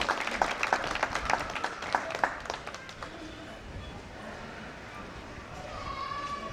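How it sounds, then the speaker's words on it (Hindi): Audience at a Hindi poetry gathering on a cold night breaking into scattered applause, with distinct claps strongest early before fading into room murmur and a voice. "मैं चाहता हूँ कि एक बार तालियां बजाइए जगदीश मित्तल"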